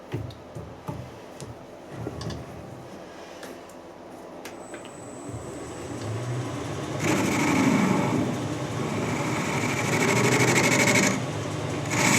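A stainless steel bar end being squared off on a lathe, quiet ticking and handling at first, then a steady loud machining whir and hum that holds for several seconds, with no talk.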